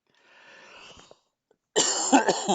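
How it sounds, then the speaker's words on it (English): Coughing close into a microphone: a soft, muffled cough first, then after a short gap a louder, harsher burst of two or three rough coughs, near and alone. "Sorry for coughing into the microphone."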